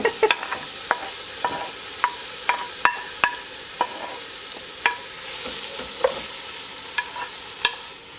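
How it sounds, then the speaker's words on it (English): Vegetables and tomatoes sautéing in a pan over medium-high heat for a Mexican seafood soup, a steady soft sizzle punctuated by regular sharp clinks of a utensil stirring against the pan, close up, no talk. "what we're going to do with these veggies is we're going to saute them for about 2 to 3 minutes on a medium-high heat"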